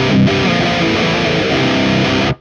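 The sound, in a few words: high gain electric guitar through Bogner Alchemist amp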